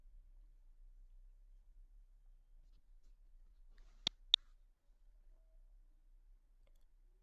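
Two quick mouse clicks land close together while verifying an email link on a computer, crisp and isolated against near silence.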